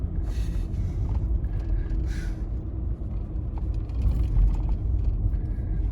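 Steady low road rumble from a vehicle being driven along a rural road near a tiny cabin, with continuous mechanical drone and faint rattles throughout, no talk.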